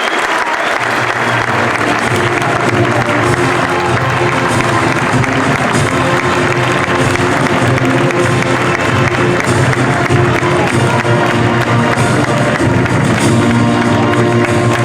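A large crowd applauds loudly and continuously at the Moors and Christians festival captaincy presentation in Dénia, dense clapping filling the space with some cheering mixed in.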